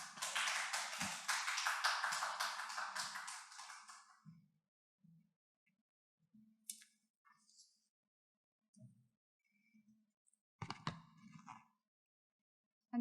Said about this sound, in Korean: 함께 격려의 박수로 환영해 주시면 감사하겠습니다